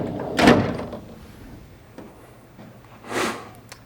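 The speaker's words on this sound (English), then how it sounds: "you can close the drawer." The roll drawer of an HP DesignJet XL 3800 large-format printer shuts with a solid thunk, then a fainter second knock follows a few seconds later, close by.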